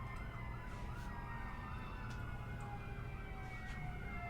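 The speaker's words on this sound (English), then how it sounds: "then the sirens come" Emergency sirens wail continuously in the distance, rising and falling over a low rumble of traffic, with no talking.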